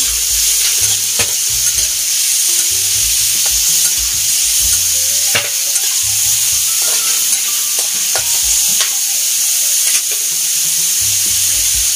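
Cabbage stir-fries in a hot pan with pepper, fish sauce and oyster sauce, a continuous loud sizzle broken by repeated scraping stirs and clatters; no one speaks.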